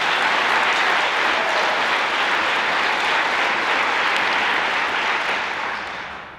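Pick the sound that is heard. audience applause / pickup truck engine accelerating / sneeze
audience applause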